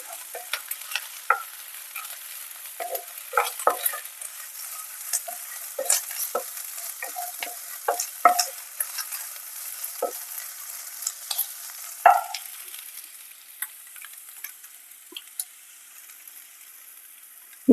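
Green chili and ginger-garlic paste sauté in a pan while a spoon stirs steadily, giving a soft continuous sizzle broken by frequent scraping ticks and clacks at close range, with no voices.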